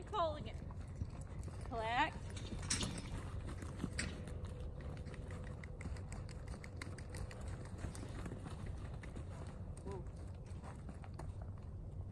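During a riding drill, a horse's hooves clip-clop in a steady rhythm on the ground, fairly faint and continuous, while a rider's voice talks over them.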